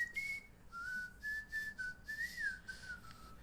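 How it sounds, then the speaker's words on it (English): A person whistles a wavering, tuneful note through the teeth, rising and falling in short phrases, clear and fairly quiet against a still background. "I can pull out a whistle with my teeth."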